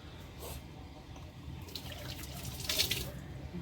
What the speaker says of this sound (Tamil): கையை கழுவிக்கிட்டு,